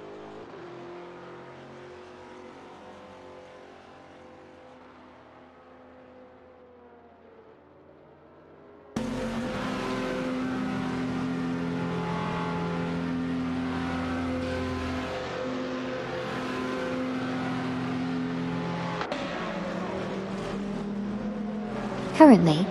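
Race cars roar around a track in a racing video game, one a Koenigsegg CGT, in a steady engine drone that is quieter for the first few seconds, then jumps louder and holds constant, with a brief burst near the end.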